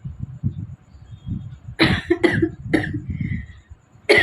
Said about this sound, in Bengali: আমার হাঁচির জায়গায় কাশি এসে গেছে।